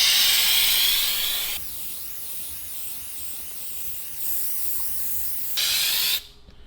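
Flexible rubber waterproof lining sprayed from a can onto a wooden drawer: a steady close hiss in several bursts, cutting off sharply at the end.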